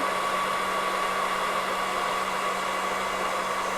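A VS Sassoon hair dryer blows with a steady, even whoosh and a faint whine, running continuously at close range without any voices.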